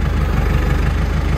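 A Landini Rex 100 GE tractor engine idles with a steady low rhythmic throb, running continuously and close by without any talk.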